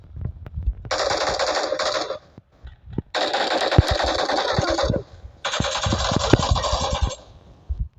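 Three long bursts of rapid automatic fire from a P90 in a shooting video game, loud and close, each lasting one to two seconds, separated by short pauses filled with faint clicks and low thuds.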